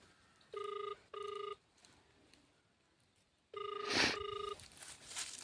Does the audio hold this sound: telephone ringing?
yes